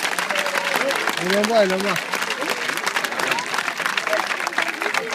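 Crowd applause rings out at the close of a festival show, a continuous clatter of many hands under a voice talking over it.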